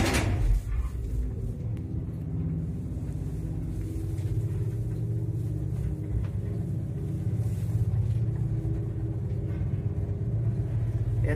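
Elevator from the KMZ 1989 lift series riding up inside a 14-storey P-30 apartment block, a steady low mechanical rumble with faint rattles, preceded by a brief clunk at the start.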